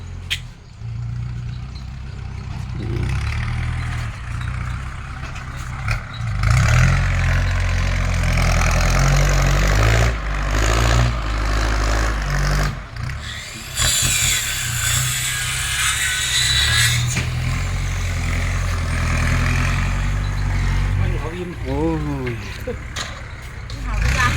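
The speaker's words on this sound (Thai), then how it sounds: "ตอนนี้รถไถกันไอมาแล้วนะครับผมเนาะ ปรับสภาพหน้าดิน" A tractor engine idles and runs while soil is levelled, a steady low mechanical drone with clanking and shifting load changes, with someone talking over it at times.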